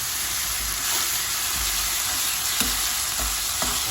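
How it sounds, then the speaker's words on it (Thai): Minced and sliced pork stir-fried with golden fried garlic in a pan for Thai rice soup, giving a loud, steady, close sizzle with occasional scraping stirs throughout. "ใส่หมูเข้าไป หมูสับ หมูชิ้น ผัดให้พอเหลือง"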